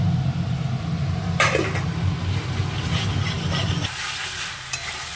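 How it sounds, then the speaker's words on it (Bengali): Potatoes frying and being stirred in spiced masala for aloo dum, a steady sizzle with scraping stirs at moderate distance, continuing alone without talk. "এবার আলুগুলো দিয়ে আলু দিয়ে ভালো করে এবার কষিয়ে নেব।"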